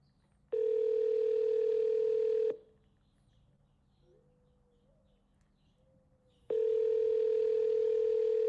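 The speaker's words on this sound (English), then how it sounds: "At the tone, please record your message." A voicemail system plays a steady, loud electronic beep tone lasting about two seconds, followed by a quiet gap with faint chirps, then a second identical tone.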